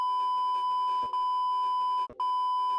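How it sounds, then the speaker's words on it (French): A steady censor bleep tone runs almost continuously over French conversational speech, cut by two brief gaps where faint voice slips through. "Tout ça, c'est bipé"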